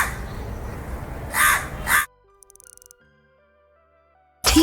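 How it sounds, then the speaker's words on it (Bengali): A crow gives two loud, harsh caws close by, followed by near silence broken by a soft, tinkling melodic chime. "ঠিক তাই কাক। বলো দেখি কাক। কাক ডাকে কা"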